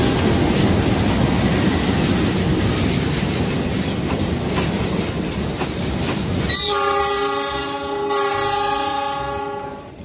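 A loud passenger train with economy-class carriages rumbles past in a video game, a continuous roar of wheels and rail noise, then a long, sustained horn blast cuts in over a quieter rolling sound near the end.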